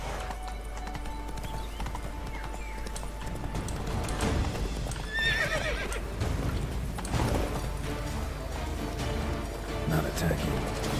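Roach, a horse in The Witcher 3, clip-clops along steadily with a neigh rising partway through over a continuous game soundscape.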